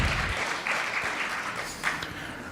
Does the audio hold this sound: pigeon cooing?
no